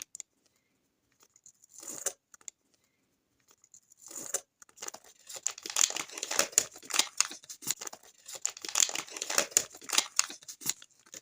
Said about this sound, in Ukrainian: Відкриємо з вами два пакетики, щоб було довше відео.